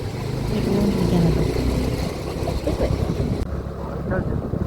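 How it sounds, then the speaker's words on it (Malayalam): A vehicle setting off on a ride to fetch petrol, with an engine drone and wind buffeting close to the microphone, and a voice speaking over it. "അങ്ങനെ ഇതാ നമ്മൾ വണ്ടിയൊക്കെ എടുത്ത് പോകാൻ ഇറങ്ങി"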